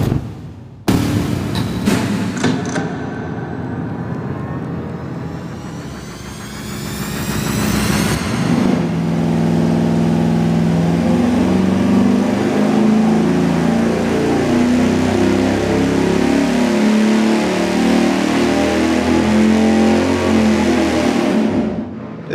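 A large 440 V8 engine on a dyno cranks and fires, then settles into a sustained loud, rumbling roar at high revs that holds steady before cutting off abruptly.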